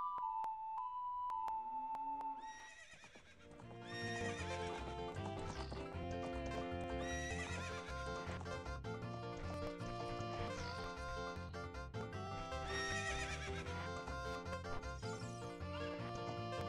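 Horse in The Legend of Zelda game, heard as a short whinny at the start, then steady clip-clopping hooves at a corral, under continuous game music.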